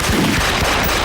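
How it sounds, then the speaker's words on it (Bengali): Gunfire cracks out in a dense, continuous burst of shots during a sudden attack, loud and close with no speech heard. "গুলির শব্দ এটা?"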